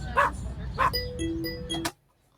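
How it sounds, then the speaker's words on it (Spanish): A dog barks several times in quick succession, loud and close, then the sound cuts off into near silence. "y los ladridos de su pueblo"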